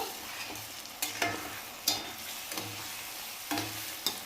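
A spoon stirs cooked pumpkin curry in a thin kadhai, gently and without scraping the bottom, giving soft repeated scraping strokes over a faint low sizzle, with no voices.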